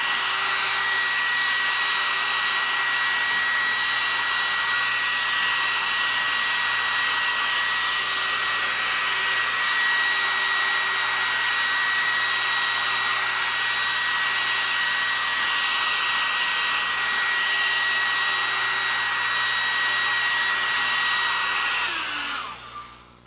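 A hair dryer runs steadily and loudly close by, heating the power plate of a phoroptor sphere. The blower hums on for about twenty seconds, then winds down as it is switched off at the end.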